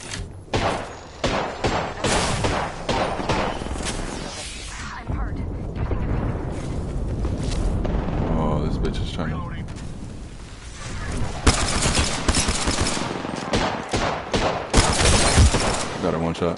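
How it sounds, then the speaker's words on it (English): Rapid bursts of automatic gunfire from a ranked Apex Legends match crackle loud and close, stopping and starting in dense volleys across the clip, with a player's voice talking underneath. "I'm shooting at this Wraith back here."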